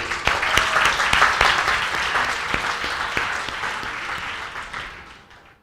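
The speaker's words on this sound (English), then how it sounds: "So a round of applause for everyone here." Audience applause at a motivational talk, a dense sustained wash of many hands clapping that rises quickly, holds loud, then gradually fades out over several seconds.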